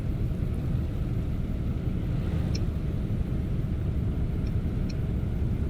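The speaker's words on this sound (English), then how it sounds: "And another cheeky handbrake turn" An armored vehicle in the Armored Warfare video game rumbling through a handbrake turn, a steady low engine drone with faint higher clicks, continuous and even, with no talk.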